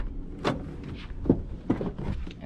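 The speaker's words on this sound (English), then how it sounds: "let's open up these suicide doors." Rear suicide doors of a Toyota FJ Cruiser Trail Team Edition are opened, a few close latch clicks and door thuds with soft rustling between them, near and moderately loud.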